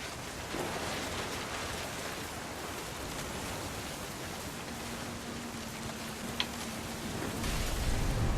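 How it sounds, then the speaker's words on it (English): Rain falls steadily in the video game What Remains of Edith Finch, a constant soft hiss with a low thundery rumble swelling near the end, fairly quiet throughout. "The thunder sounded much too close and full of angry power."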